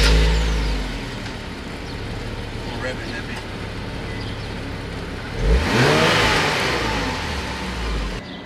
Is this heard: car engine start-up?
yes